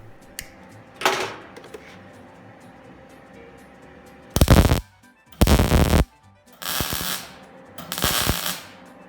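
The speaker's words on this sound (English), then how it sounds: "I'll put just a little bit more weld in around the outside of that weld" Sheet metal is plug welded to fill a hole, heard as several separate bursts of loud crackling sizzle with quiet gaps between them.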